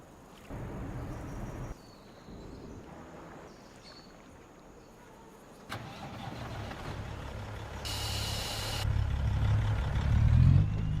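A truck engine starting up in Farming Simulator 25, heard as the rumble kicks in partway through and builds to a steady, growing idle over quiet in-game background sound.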